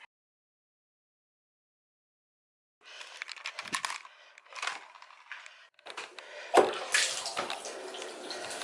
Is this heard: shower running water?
yes